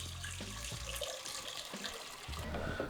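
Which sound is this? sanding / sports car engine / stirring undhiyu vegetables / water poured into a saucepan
water poured into a saucepan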